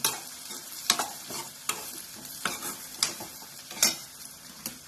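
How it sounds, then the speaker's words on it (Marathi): A spoon scrapes and stirs cluster bean curry in a pan just after turmeric powder goes in. Several sharp scraping strokes come at irregular intervals over a soft, steady sizzle, close and fairly quiet. "त्याच्यामध्ये प्रथम हळद पूड घालायची, हलवून घ्यायचं चांगलं"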